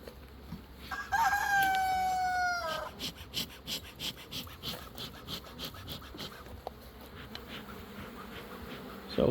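A rooster crows once, clear and nearby, over a steady buzzing of bees at a beehive and a faint rhythmic rasping in the background.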